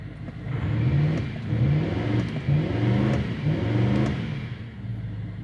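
A Range Rover Sport TDV8 diesel runs after new turbos are fitted, with a loud, close, throbbing engine note that rises and falls in uneven pulses, heard alone without talk.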